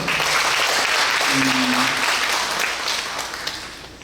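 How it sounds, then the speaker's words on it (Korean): Steady audience applause fills a hall during an inauguration worship service, sustained and fairly even before gradually thinning out toward the end. "다시 한번 박수 부탁드립니다"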